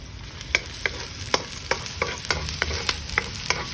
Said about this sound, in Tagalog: saute the garlic and the onions and the white of the spring onions also.